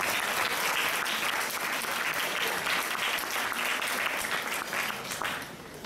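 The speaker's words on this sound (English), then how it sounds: "So I think they deserve a big round of applause." At a Year 12 school formal, a crowd of students gives a big round of applause to the people who organised it, loud continuous clapping that fills the space and tapers slightly toward the end.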